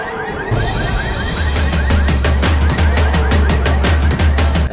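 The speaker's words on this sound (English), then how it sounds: "a car lot full of alarms that can go off from the slightest touch" A car alarm blares in a car lot in the game Left 4 Dead 2, loud and close, with rapid repeating electronic pulses over a low rumble.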